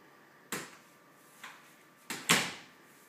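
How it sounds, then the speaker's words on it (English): A household door is pushed shut with a few knocks and bumps, three or four separate thuds, the last a louder closing bang, close by in a quiet room with no talking. "Let's shut the door."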